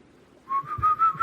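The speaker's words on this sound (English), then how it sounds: "All of the whistles now, they were going in different melodies" A single thin whistle rising slowly in pitch, faint and somewhat distant, sustained for about a second against quiet low rumble.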